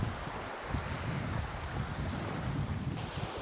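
Ocean waves meet and wash together at the tip of Kalanggaman Island, a continuous, diffuse surf roar heavily buffeted by wind gusting across the microphone.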